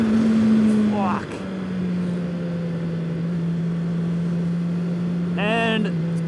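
A custom-built 201 hp turbocharged Honda CBR900 with a homemade quick shifter drones steadily at speed, its engine note dipping on two quick upshifts, one early and one near the end.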